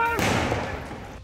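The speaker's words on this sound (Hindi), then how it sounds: "इस बीच एक बार फिर गोली चलने की आवाज सुनाई दी" A single gunshot fired by police during a violent political clash in Bangaon village, West Bengal, heard as one loud, close thud-like report that rings out and decays over about a second.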